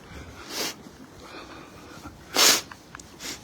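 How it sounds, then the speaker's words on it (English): A person with allergies sniffling while walking outdoors in Ikebukuro, Tokyo: a few short, sharp nasal sniffs spaced a second or so apart, close to the microphone over faint background noise. "Sorry about the noise of the sniffling."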